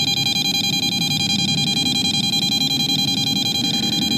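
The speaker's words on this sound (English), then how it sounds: "I'm sorry, it's really annoying, I'm sure, the beeping" An EMF meter near power lines gives continuous high-pitched electronic beeping and whining tones through the whole stretch, loud and steady, with no talking.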